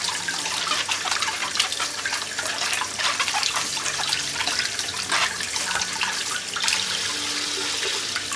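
Running tap water rinses freshly washed apples in a kitchen sink, a steady close splashing and trickling that stays even throughout, with no voices.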